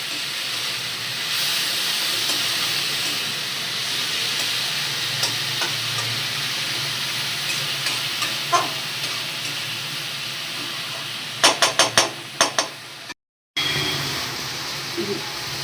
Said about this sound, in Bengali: সব দিয়ে এবার কিছুটা নাড়ে দিয়ে চালিয়ে ভালো করে সব কিছু মেশাতে হবে শাকের সাথে।